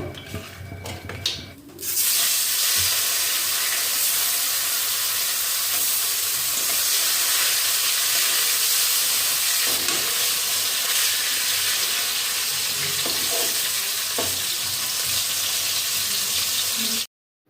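Fish with fins trimmed and rubbed with salt and turmeric fry in hot oil, a loud, steady, spattering sizzle that starts abruptly after a short quiet stretch and keeps going close up for many seconds without speech.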